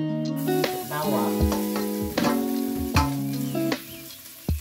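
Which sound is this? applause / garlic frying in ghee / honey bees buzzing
garlic frying in ghee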